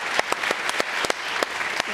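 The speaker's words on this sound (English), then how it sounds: "Can we all give a big round of applause" An audience applauds at an MIT Media Lab talk with Walt Disney Imagineering guests, steady dense clapping filling the room with a few sharper individual claps standing out.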